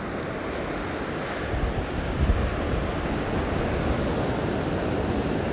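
Waves and wind at Praia do Paiva, a beach in Cabo, Pernambuco, Brazil: a steady, dense roar of surf with heavy wind buffeting the microphone throughout.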